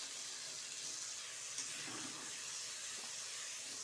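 Ginger frying in a little oil in a pan, a steady soft sizzle and hiss held at a low, even level throughout.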